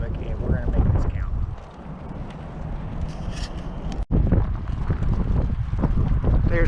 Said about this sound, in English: as you can see by these streamers here, it's definitely windy here in Lubbock